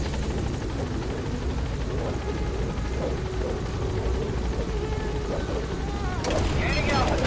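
Pequod helicopter in the video game Metal Gear Solid V: The Phantom Pain, a loud continuous rotor drone with steady chopping throughout, while voices talk over it.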